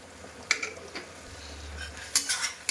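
A metal spoon scrapes and clinks against a pan as fried spice masala and homemade garam masala are stirred, with sharp knocks at the start and a cluster near the end, plus a low steady hum, no speech.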